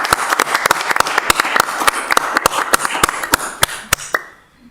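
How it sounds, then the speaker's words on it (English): Sparse, sharp individual claps from a small audience at a city council meeting, applauding two universities, irregular and fairly close, thinning out and fading to quiet at the end. "Let's get a round of applause for our two great universities."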